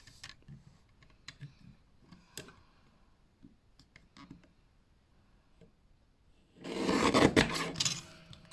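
Card being lightly trimmed for a shutter card gives faint scattered taps and clicks, then a louder, close scraping cut near the end.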